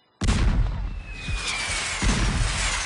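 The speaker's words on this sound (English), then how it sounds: "Looks like the salt is being shot out of that ship's cannon, Sal." A sudden loud ship's cannon boom in a cartoon opens the clip, followed by rumbling echoes and a few softer thuds rolling on in the distance.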